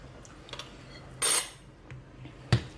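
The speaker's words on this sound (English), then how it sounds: "use the back of a spoon to spread it out" Back of a spoon spreading sauce across a wrap for a pizza wrap, soft scraping swishes and a couple of light metal clinks against the dish, close and fairly quiet with no talking.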